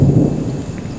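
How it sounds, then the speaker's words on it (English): Deep rolling thunder from a storm rumbles loudly and close at a campsite in the Blackdown Tablelands, a low continuous roar with a faint patter of rain beneath it. "I don't know if you can hear all that thunder"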